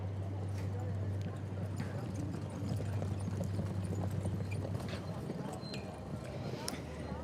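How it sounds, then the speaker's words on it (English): Dutch warmblood horses pulling a four-in-hand carriage at a driving championship cones course, hooves clip-clopping in a rapid steady rhythm at moderate distance over crowd ambience and a low steady hum. "Some Dutch warm blood horses."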